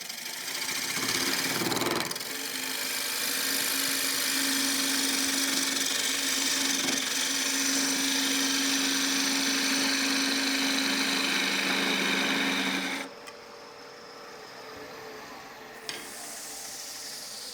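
A wood lathe spins a piece of spalted beech while a skew chisel cuts it, producing a steady whirring tone with a constant hiss for about thirteen seconds, then a quieter, thinner run-down near the end, with no talking.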